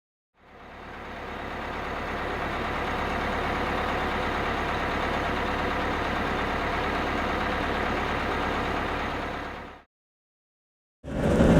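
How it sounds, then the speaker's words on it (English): A Newmar motor coach engine runs at a steady idle, a loud, even rumble held for about nine seconds before cutting out briefly and then starting again, with no one speaking. "I'm just going to let you experience Comfort Drive as I drive this coach."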